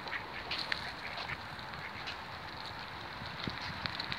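Brown ducks at a pond in a city square give scattered, fairly faint quacks over a steady outdoor background, with no one speaking.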